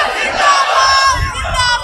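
A crowd at a religious gathering chants a slogan in unison, a loud, dense mass of voices rising together with strong low rumble toward the end, with no single speaker standing out.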